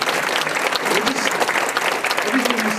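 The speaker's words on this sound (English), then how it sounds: "Can we just give Paul and Katie a round of applause?" Steady, dense crowd applause with many claps blending into a continuous roar, sustained throughout, with a voice faintly audible underneath.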